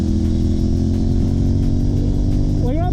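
A CFMOTO 450SS sport bike fitted with Bitubo suspension runs hard on a race track, its engine a loud, steady drone at speed under rushing wind, with a rising rev as the throttle opens near the end.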